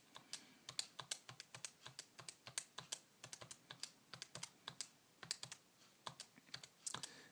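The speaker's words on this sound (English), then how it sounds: "So I'll type those in." Data is keyed into a calculator as a rapid, uneven series of light plastic clicks, close and quiet, with no speech.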